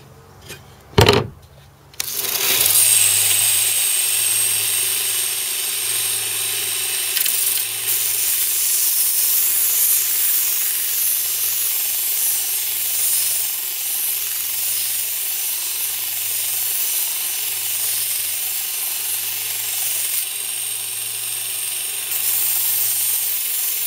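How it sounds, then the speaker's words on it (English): Belt sander fitted with a 120-grit belt sharpening a 1-1/4 lb hickory-handled axe head, a steady loud hiss and grinding whir running continuously after a short burst of knocks at the start, with no talk. "Got my belt sander out, starting with a 120 grain."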